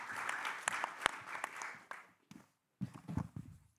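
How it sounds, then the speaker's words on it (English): Audience applause at the close of a presentation, a dense burst of clapping that fades out after about two seconds, followed by quieter shuffling and a few low thumps. "So, okay, final applause."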